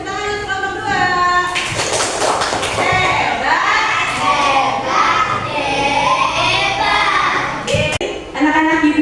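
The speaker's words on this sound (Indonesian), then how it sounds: "Kita beri tepuk tangan untuk kelompok 2" Schoolchildren in an Indonesian classroom clap for a discussion group, a loud mix of hand claps, thumps and excited young voices. Speech comes first and then returns over the clapping.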